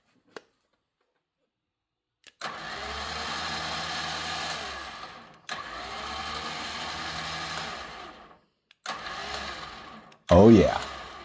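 A 10k electric winch motor being test-run on a Ford Sport Trac runs in three bursts of steady, loud whirring drone, separated by short pauses, before a voice speaks briefly at the end.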